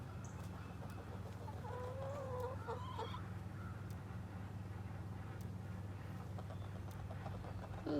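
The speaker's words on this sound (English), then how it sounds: "chicks." Young meat-bird chicks give faint, scattered high peeps against a low steady background hum, soft and somewhat distant, with no talking.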